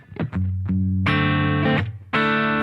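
Distorted electric guitar played through a Boss GT-1000 with a touch of room reverb, a few picked notes followed by loud sustained chords that ring out and are struck again.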